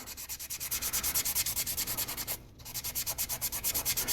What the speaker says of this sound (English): it's just going in there and sanding till that line's gone